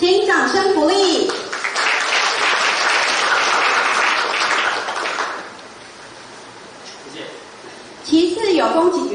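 Clapping rises from the audience at a police award ceremony for officers who solved a Changhua credit cooperative robbery, a steady burst of applause fading out, with a speaking voice at the start and end.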